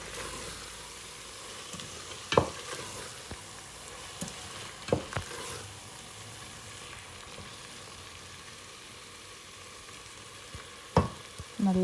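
Chicken biryani masala fries in a pan as chili powder is stirred through it, giving a steady low sizzle under a few sharp scrapes and clanks of the spoon against the pot.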